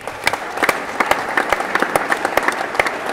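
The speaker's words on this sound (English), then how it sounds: "give yourself an applause" A crowd at a union local membership meeting breaks into applause, a dense, steady spread of many hands clapping at moderate distance.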